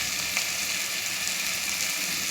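Onions sautéing in a pan for a masala, a close, continuous loud sizzle of frying with no voices.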